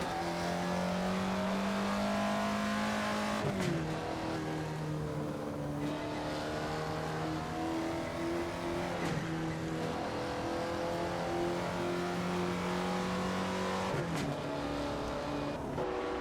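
A 1955 Jaguar D-Type race car in Assetto Corsa powering hard out of a corner on a Scottish Highlands road, engine note climbing steadily through the gears with sharp shifts, loud and close, no voices.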